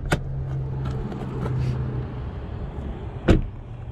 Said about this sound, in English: First thing, let's pop the hood.